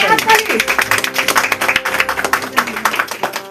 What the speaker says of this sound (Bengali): করতালি, জোরে হাততালি